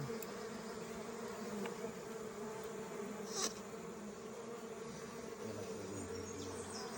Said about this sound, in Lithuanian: Čia sako, geros bitės, jos nesikandžia.